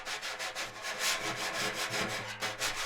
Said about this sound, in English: If I have it completely flat against the drum,